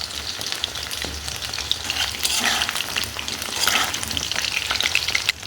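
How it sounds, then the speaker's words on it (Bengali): Chicken pakoras frying in oil over low-medium heat, a close, continuous crackling sizzle with stirring and turning noises that swell briefly midway. "সমস্ত পকোড়া আমি লো টু মিডিয়ামে ভেজে নেবো"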